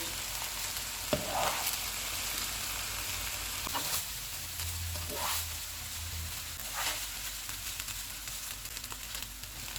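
Boiled rice with green onion and soy sauce sizzling in a pan while a spatula scrapes and stirs it, with occasional sharp scraping strokes over a constant crackle.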